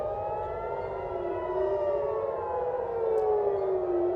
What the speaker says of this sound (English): We are hearing sirens.